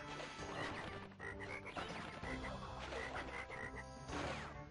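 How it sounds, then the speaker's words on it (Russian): Frogs croak repeatedly in Crash Bandicoot 3 on PS1, in a modded Toad Village level, as short chirping calls over busy game music and effects. "Так, лягушка, ты что здесь делаешь?"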